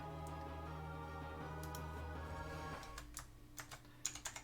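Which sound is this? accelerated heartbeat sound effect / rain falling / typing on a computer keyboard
typing on a computer keyboard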